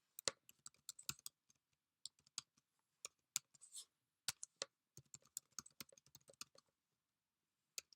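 Clicky keystrokes on a computer keyboard entering a login username and password, quick irregular bursts with short pauses, close and quiet in an otherwise silent room.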